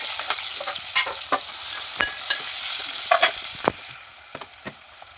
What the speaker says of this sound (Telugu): సో ఆనియన్ అయితే ఫ్రై అయిపోయిందండి చూసారు కదా